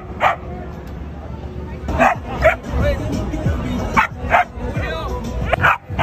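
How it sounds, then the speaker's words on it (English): A small dog, apparently a puppy, barks and yips in sharp, irregular bursts close by, with whimpering between the outbursts and a voice talking over the yapping. "Why are small dogs always so angry?"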